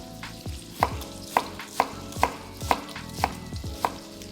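A knife chopping an onion on a cutting board for potato soup, with steady evenly spaced thuds, about one every half second, close and alone.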